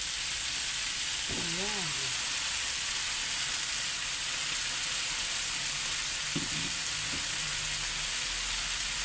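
Chicken pieces dropped into a hot pot with taro for a chicken and corn soup give a steady, even sizzle and hiss that runs throughout, while someone speaks briefly in the background.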